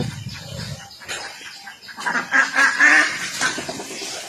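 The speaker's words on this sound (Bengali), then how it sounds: "এখানে কিছু হাঁস রয়েছে" Ducks quack at a resort set in the jungle, a few honking calls rising in a short burst over faint outdoor background, fairly close but not loud.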